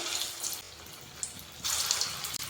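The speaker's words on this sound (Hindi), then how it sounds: "एक एक करके हम रोल को तेल में डाल देंगे।" Parwal rolls going into hot oil in a kadai one by one, giving a steady broadband hiss and sizzle that swells louder near the end, with no talking.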